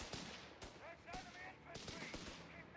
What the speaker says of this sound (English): Heavy machine gun on the field for our German.